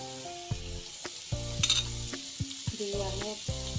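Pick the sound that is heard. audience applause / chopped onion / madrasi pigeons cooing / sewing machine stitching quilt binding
chopped onion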